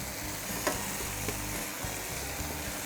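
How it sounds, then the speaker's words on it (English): Chicken sizzles steadily in a hot frying pan, a constant crackling hiss with a couple of faint clicks from a utensil. "Hear that sizzling?"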